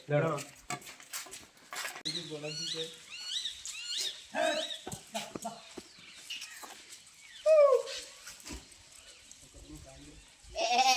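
Goats bleat repeatedly amid a busy outdoor scene, with several people talking and calling over them; a louder, closer bleat stands out near the end.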